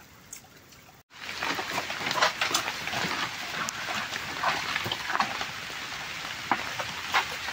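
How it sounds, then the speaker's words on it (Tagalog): Steady rain pattering down outdoors at a creek and water-source construction site, a dense crackling hiss with scattered louder drops, continuous after a brief pause near the start. "Inabot ng ulan."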